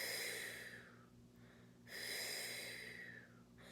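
A flute teacher demonstrates an unsteady, drooping exhale, two long breathy blows that sag and fade partway through, close and soft, separated by a brief pause, with no talking.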